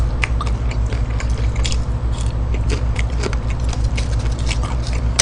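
Close, loud crunchy bites and chewing of BHC Bburinkle fried chicken in a mukbang, with crisp crackles scattered over a constant low hum and no talking.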